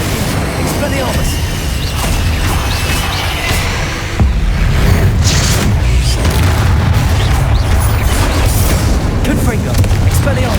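Confringo and Expelliarmus spell blasts in Hogwarts Legacy fire in a dense, loud barrage of booming impacts and crackling bursts, continuing under a voice calling out spell names.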